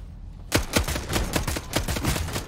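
Rapid pistol gunshots in a vampire video game, a burst of about eight close, sharp cracks fired in quick irregular succession after half a second of quiet, with no talking.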